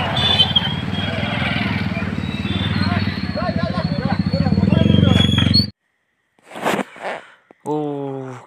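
Motorcycles ride together in an all-Assam bike rally in Morigaon, 2021, about forty to fifty bikes. A loud, steady engine roar runs for about six seconds, then cuts off abruptly, and brief voices follow.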